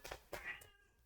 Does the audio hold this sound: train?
no